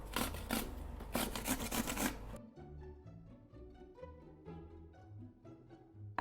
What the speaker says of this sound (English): I'm just going to be shredding this cucumber with the grater